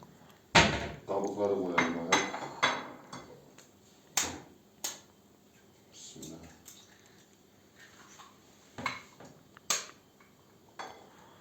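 Plates and utensils set down on a surface while preparing a pre-dawn sahur meal at home: a series of sharp, close clinks and knocks spaced irregularly, with people talking in between.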